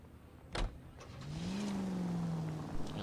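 A car door thuds shut, then a vehicle engine in the video game L.A. Noire starts up and hums steadily at a low, moderate level, with no voices.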